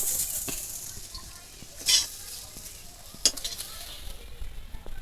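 Green banana slices sizzle in hot oil for a Bengali lunch, with a continuous frying hiss and a couple of louder scraping stirs of a utensil against the pan.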